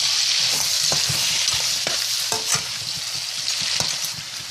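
Garlic, parsley and pounded green onion frying in a pan, a dense close hiss of hot oil with soft intermittent clicks and scrapes of stirring, heard alone without speech.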